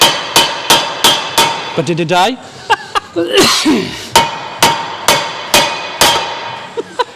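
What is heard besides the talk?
hammering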